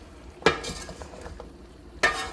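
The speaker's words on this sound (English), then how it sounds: "Let's stir the vegetables." Vegetables for sambar stirred in a hot pan, with two sharp scraping clatters of the spoon against the pan over a faint sizzle, close and fairly quiet.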